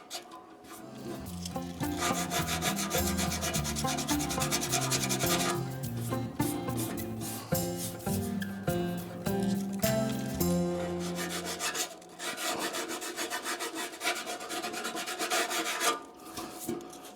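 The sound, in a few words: sanding scratches with 320 grit around Harley paint repair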